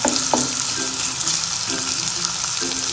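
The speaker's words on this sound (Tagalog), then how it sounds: "Antayin lang natin na medyo maluto yung ating onion." Onion frying in a pan, a loud continuous sizzle and crackle up close, broken by occasional stirring scrapes and with no voices.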